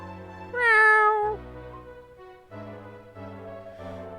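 In the DS version of Dragon Quest 5, a game cat lets out one clear, rising-then-falling meow over soft background music, loud and close, with the tune continuing after it fades.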